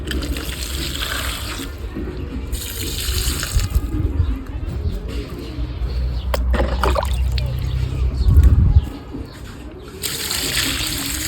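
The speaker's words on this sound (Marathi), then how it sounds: "ते बाकीची कुंडीत लावलेली झाडं आहे ना, यांना पाणी द्यायचं आहे आपल्याला" Potted plants being watered, with water pouring and splashing in bursts that rise and fall over several seconds, close by, amid some background noise.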